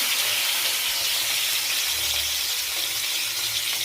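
Ingredients for fried rice hiss in hot oil, a steady loud bright sizzle that holds evenly throughout with no pauses.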